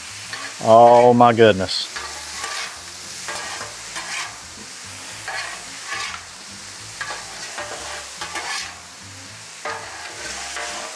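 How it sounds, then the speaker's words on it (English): Steak and potatoes fry on a Blackstone griddle as butter is added and tossed, with a steady sizzle and scraping of the spatula; a man briefly exclaims over it early on. "I'm gonna take our butter right over that mixture. Give it a toss."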